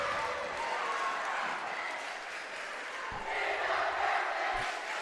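A student crowd cheers steadily at a high school girls' volleyball match, a loud, continuous roar of voices rising slightly near the end, with a couple of brief thumps underneath.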